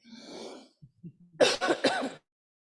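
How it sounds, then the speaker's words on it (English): A breathy exhale and a few small throat noises, then a burst of harsh coughing, three or four close rasping hacks before silence. "After a cough."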